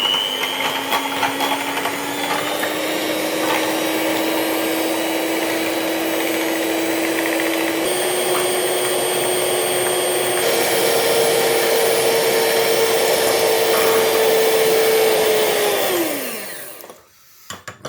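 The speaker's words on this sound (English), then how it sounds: "we're going to give it a decent whisk, going to get it up to height" An electric mixer whisks cream for homemade ice cream with a steady high motor whine that slowly rises in pitch as the cream thickens, then winds down and stops near the end.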